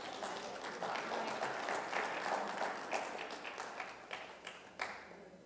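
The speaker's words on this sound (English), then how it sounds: "They want to give you an applause." Faint applause for a concert pianist at a church Sunday service, a steady wash of many hands clapping for several seconds that thins into scattered individual claps near the end.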